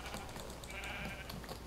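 Sheep bleating in the Minecraft video game, a short synthetic bleat over a steady game background, fairly faint, with no talking.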